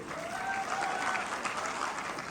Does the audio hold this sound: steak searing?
no